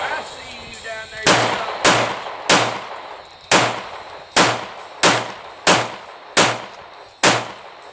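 An AK47 rifle fires at an outdoor shooting range in a fast string of about ten loud, close, evenly spaced shots, each with a short ringing decay, emptying the magazine.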